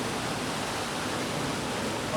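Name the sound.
waterfall at the end of Big Burn hike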